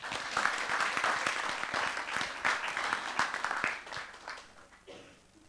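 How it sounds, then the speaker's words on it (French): Audience applause at a round-table discussion, a dense, steady patter of many hands clapping that holds for several seconds and then thins and fades toward the end. "Sous vos applaudissements, bien sûr."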